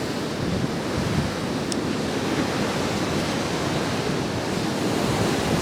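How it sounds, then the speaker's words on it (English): Ocean waves at Rockaway Beach, New York City, break and wash ashore as a dense, continuous roar, heavy with wind noise on the microphone and no talk. "I could, you know, enjoy the waves, the boardwalk."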